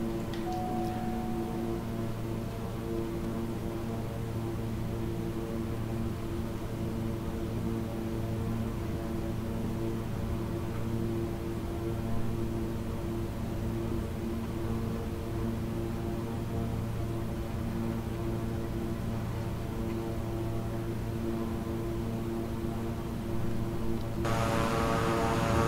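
King Air 350i twin-engine turboprop taxiing in Microsoft Flight Simulator, a steady droning engine hum with layered tonal whine held throughout, loud and continuous, with a slight rise near the end.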